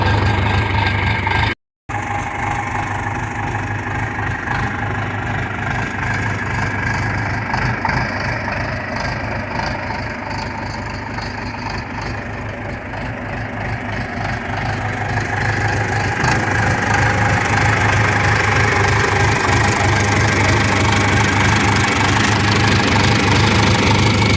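A 1964 John Deere 3020 Powershift diesel tractor idles close by with a steady low throb and a rough, uneven knock, like a cough it can't clear. The note rises slightly near the end after a brief dropout.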